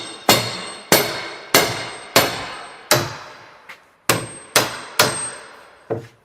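A hammer strikes a whisky cask being chopped up, giving about nine sharp, ringing metallic-wooden blows at a steady pace, each decaying quickly, loud and close with no talk.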